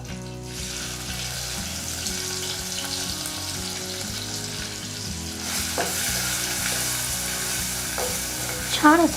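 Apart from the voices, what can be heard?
crushed garlic, green chili and cumin frying in hot oil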